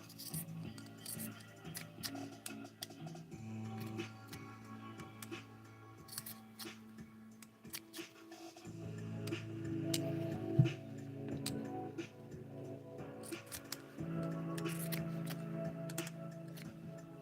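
Scissors trim plants inside a terrarium with a series of quiet, close snips and small clicks spread over a soft background hum.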